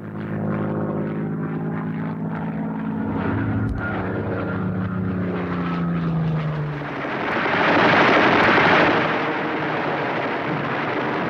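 A Hawker Hurricane fighter's propeller engine drones loudly and continuously, the pitch sliding lower before a brief rushing swell as the aircraft passes close.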